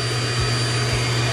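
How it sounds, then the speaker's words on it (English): Central vacuum system of a Grand Design Solitude 310GK RV, running as a loud steady motor whine with a constant airflow roar, close by. "This unit also comes with the central vacuum system, as stated earlier."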